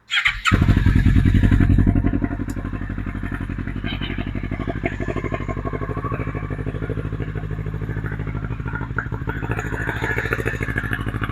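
A motorcycle engine cranks and starts, revs briefly, then settles into a steady, loud, close idle with a rhythmic putter.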